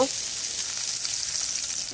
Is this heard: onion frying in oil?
yes